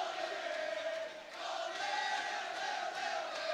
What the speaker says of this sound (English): the Sentinel crowd here at Hawthorne High School starting to celebrate